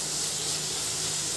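Sliced onion sautéing in a pan over a medium gas flame, a soft, steady sizzle and hiss held at even level with no talk.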